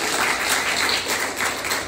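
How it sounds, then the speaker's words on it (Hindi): A church congregation applauds for about two seconds, a dense and steady wash of many hands clapping at close range, with no voices rising above it. "ताली अपने परमेश्वर की बजाते हैं"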